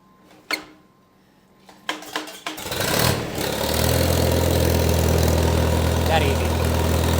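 A Farmall tractor engine in freezing weather cranks with a few sharp sputters, then catches and settles into a loud, steady low idle that runs to the end.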